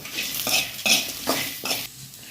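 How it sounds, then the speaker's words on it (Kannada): Coriander seeds and cumin roasting in a pan over a medium flame, stirred with a utensil in repeated scraping strokes over a faint sizzle, close and fairly loud, with no voices. "ಮೀಡಿಯಮ್ ಉರಿಯಲ್ಲಿಟ್ಟು ಉರಿಬೇಕು ಈಗ ಕೊತ್ತಂಬರಿ ಎಲ್ಲ ಸ್ವಲ್ಪ ಕಲರ್ ಚೇಂಜ್ ಆದರೆ ಸಾಕು"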